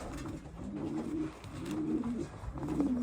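Soft, close pigeon coos repeating in low throaty phrases as a racing pigeon hen is held in hand, heard alone without talk.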